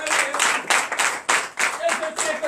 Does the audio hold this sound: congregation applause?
yes